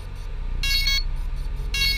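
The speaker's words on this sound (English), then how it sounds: "now it's beeping continuously" A DJI Inspire 1 drone gives off two bursts of shrill electronic beeping over a constant low hum, close and fairly loud, with a short gap between them.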